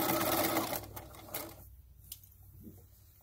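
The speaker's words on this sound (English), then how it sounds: "just sew straight across that" Sewing machine stitching straight across a notch in a fabric dragon toy's foot, a loud rapid mechanical whirring burst lasting about a second and a half before stopping, leaving faint handling noise.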